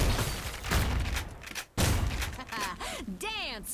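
Grenades go off in a video game with heavy, booming blasts that fill the first half. After a sudden break, more rumbling follows, and a person's voice comes in at the end.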